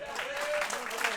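Audience applause at a youth Thai boxing event in Rishon LeZion, a brief steady patter of clapping from the crowd mixed with a voice speaking over it.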